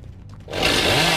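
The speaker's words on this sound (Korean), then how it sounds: "아 왜 나무 못 뱀? 전기톱인데?" A chainsaw in the horror game Dead by Daylight roars to life after a brief lull, a loud, rasping, sustained buzz that runs on steadily close by.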